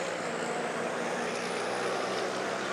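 Racing trucks in a 2025 Zolder qualifying session pull out of the pit lane onto the circuit, their engines forming a steady, broad, distant roar with no clear individual passes.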